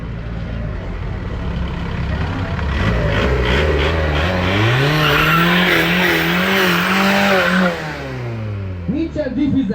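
A VW Golf 1.9 TDI and a Suzuki Swift 1.3 launch in a quarter-mile drag race, engines revving loudly with rising and falling gear-change sweeps and tire squeal, close and powerful throughout.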